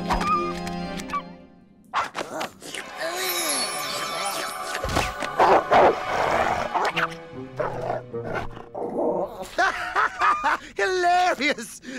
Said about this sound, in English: That bark really suits you, Ferocia.